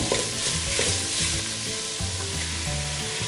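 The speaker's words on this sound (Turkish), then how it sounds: "Şimdi içerisine toz biberi ekliyorum. Sadece bir karıştırmam yeterli." Red pepper powder is stirred into tomato paste frying in a pan, giving a steady, close, continuous sizzle with soft scraping stirs throughout and no voices.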